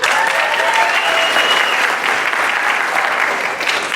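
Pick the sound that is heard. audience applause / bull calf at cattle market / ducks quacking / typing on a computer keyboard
audience applause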